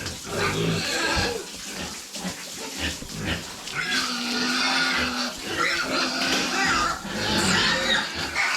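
Pig on a farm grunting and squealing repeatedly through a noisy, cluttered background, with some faint voices mixed in.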